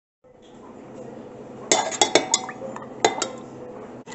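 A tablespoon clinks against a dish while strawberry milk is being made, giving a quick run of sharp metallic taps followed by a couple more later, close by over a soft background hum.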